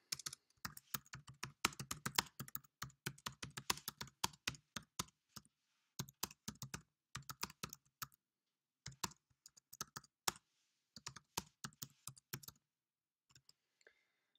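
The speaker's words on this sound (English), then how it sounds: "I'm just going to type in my welcome message here" Fingers type a welcome message on a computer keyboard, rapid close clicking keystrokes in bursts with brief pauses, growing sparser toward the end.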